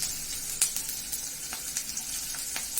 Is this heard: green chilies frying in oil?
yes